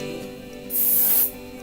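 A can of hairspray sprays onto hair being styled into a Cinderella updo: a single short, sharp hiss of about half a second, close and loud, alone against quiet background.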